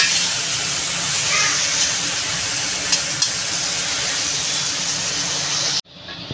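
Tomatoes and fried potatoes sautéing in oil for a katla fish curry, a loud continuous sizzle with stirring scrapes that cuts off abruptly near the end.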